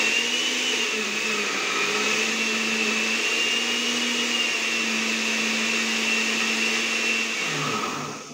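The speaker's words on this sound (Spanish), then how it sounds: "Vamos a poner aquí y vamos a empezar a licuar." A blender whirring oat and banana pancake batter, a loud continuous motor hum with steady pitch that winds down at the very end.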